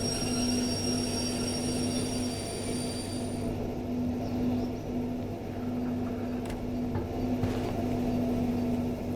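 A heavy electric freight train rumbles steadily in Derail Valley, a continuous low drone with a persistent hum and faint squeal, the high whine fading partway through, with no talking.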